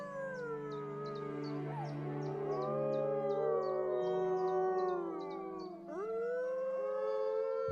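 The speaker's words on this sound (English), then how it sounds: "This is a defensive howl." A captive wolf pack gives a defensive howl in answer to the distant howls of a rival pack. Several voices hold long, wavering, overlapping tones and slide up and down for the whole stretch, with no talk.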